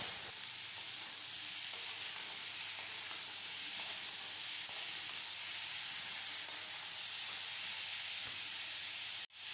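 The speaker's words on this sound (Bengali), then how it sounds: "নুন আর হলুদটা দিয়ে একটু নাড়াচাড়া করে ভাজা করে নেবো" Cucumber pieces fry with salt and turmeric in a pan, giving a constant bright sizzle up close, with faint stirring ticks now and then and no talking.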